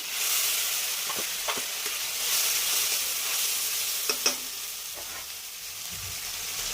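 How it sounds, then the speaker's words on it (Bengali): Ginger, garlic and onion paste with puréed tomato frying among already-fried mushrooms for a Bengali mushroom curry, a loud steady sizzle close by with a few scrapes of a stirring spoon and no talk. "এবার আমার আদা বাটা, রসুন বাটা, পেঁয়াজ বাটা এটা দিয়ে দিলাম, পেস্ট করা টমেটোটা দিয়ে দিলাম।"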